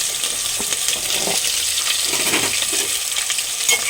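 Ginger garlic paste and chopped onions fry in a pan with a steady, close, dense sizzle that holds level throughout, with a few brief stirring scrapes and no voices.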